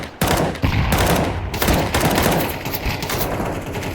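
Rapid gunfire sprays in the tactical shooter Entry Point, with dense overlapping automatic bursts and sharp shots packed tightly together, loud and continuous for the whole stretch.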